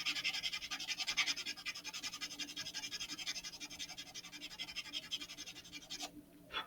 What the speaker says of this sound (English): that's what the sandpaper is for